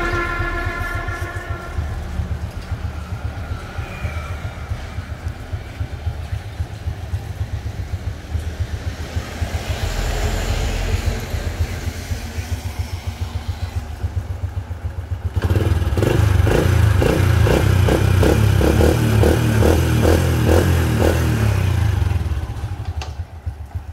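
A Honda RS 100 motorcycle engine idles with a steady, rapid putter, then revs up louder and rougher for several seconds before settling back, heard close with no talking.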